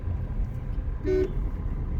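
A single car horn toots for about a quarter second amid steady road noise from a car moving on a highway.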